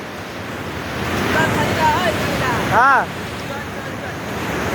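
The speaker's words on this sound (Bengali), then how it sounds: "ওই দেখো ঢেউগুলো উঠছে" Ocean surf at sunrise, a steady wash of breaking waves with wind across the microphone, while a voice speaks briefly and a bird chirps near the middle.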